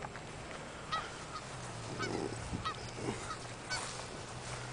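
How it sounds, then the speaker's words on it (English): A large flock of hundreds of geese honks in an open field near a house, repeated overlapping calls at moderate distance over a steady low background hum. "hundreds of geese."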